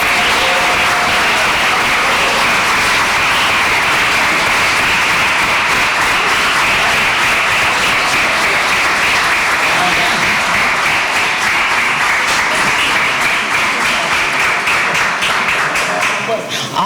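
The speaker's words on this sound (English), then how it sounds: "Let's give him a round of applause." Sustained, loud audience applause at a teaching awards ceremony greets Reverend Greg, a thick continuous wash of many hands clapping that holds steady for the whole stretch.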